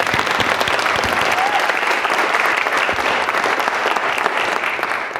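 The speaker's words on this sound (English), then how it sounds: "Please give her another round of applause." An audience gives a singer another round of applause, with loud, steady, dense clapping that fills the room and holds evenly throughout.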